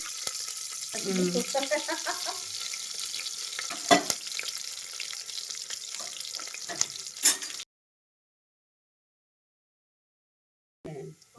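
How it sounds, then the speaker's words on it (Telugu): Chopped onions with curry leaves, cumin, mustard seeds and a dried chili frying in hot oil give a steady close sizzle with stirring clatter and a brief voice early on, then cut to silence before a short sound at the end. "ఆనియన్స్ గోల్డెన్ బ్రౌన్ వచ్చే వరకు వేయించి"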